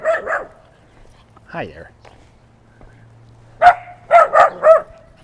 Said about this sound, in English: dogs barking into the microphone is not a joy